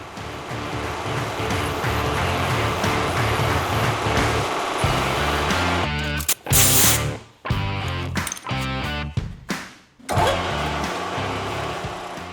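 A milling machine cuts a slot in a billet aluminum front bumper mount, a loud sustained whirring grind that later breaks into choppy bursts with sharp stops and restarts.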